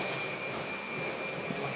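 A vacuum cleaner runs indoors with a steady, whining drone and a thin high tone on top. It stays constant and fairly close for the brief moment, with no voices.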